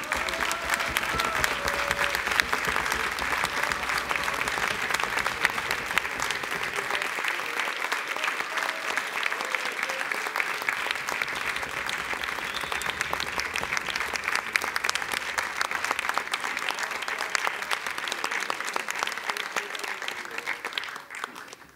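Warm, sustained applause from the audience at a band concert, steady dense clapping that holds at an even level for over twenty seconds.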